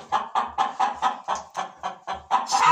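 Egg-laying hens cluck loudly and close by in a steady series of about ten clipped, evenly paced calls, with a fuller squawk rising at the end.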